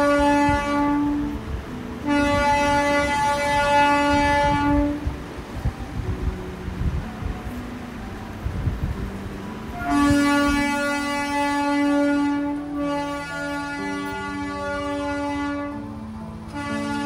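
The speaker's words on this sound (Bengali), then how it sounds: "দেখো কার্শিয়াংয়ের ভিতর দিয়ে একটা টয় ট্রেন" Darjeeling toy train rolls through the town of Kurseong, blowing long, repeated horn blasts over the rumble of its wheels; the horn sounds in several separate bursts, loud and close.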